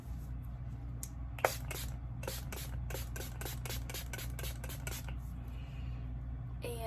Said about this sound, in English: next I go in with this hypochloric acid spray